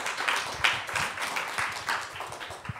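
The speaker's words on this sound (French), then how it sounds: "le moment est venu d'applaudir nos deux experts" An audience applauds two experts at the close of a panel discussion at the Centre Pompidou, a dense, steady wash of many hands clapping close by, with no talk over it.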